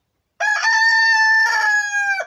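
A rooster crows once, close and loud: a single long cock-a-doodle-doo that starts suddenly after a moment of silence and rises, holds, then breaks off at the end, with no talk over it.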